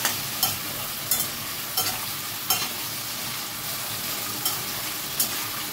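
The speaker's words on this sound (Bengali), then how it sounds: "গ্যাসের ফ্লেমটা হাই করে দিয়েছি, দিয়ে এটাকে একটুখানি ফ্রাই করে নিচ্ছি" Taro root frying in a pan with turmeric and salt over a high gas flame for a hilsa fish curry, a steady sizzle broken by regular scraping stirs about every half second to a second.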